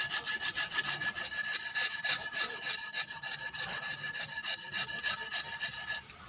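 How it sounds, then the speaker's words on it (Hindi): Sandpaper rubbed back and forth over a metal plate clamped in a vise, a close, loud rasping scrape in quick repeated strokes that runs steadily with no voices. "रेगमाल लेके वाइस पे प्लेट को लगा लेना है और इस तरीके से हम रगड़ते जाएंगे"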